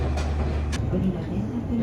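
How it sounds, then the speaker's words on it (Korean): A sightseeing theme train runs along the coastline toward Obi in Japan, its steady low rumble and rolling wheel noise heard from on board, continuous and moderately loud. "운이 좋게 탑승할 수 있었던 열차는 해안선을 따라 달리며 오비로 향했다"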